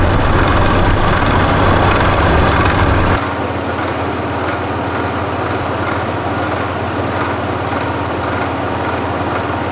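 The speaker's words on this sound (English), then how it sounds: "there's a little bit of like a rattling noise." A Toyota 4Runner engine runs at idle up close, a loud, steady low mechanical drone with a faint rattly texture, dropping to a quieter, thinner idle sound after a few seconds, with no talking.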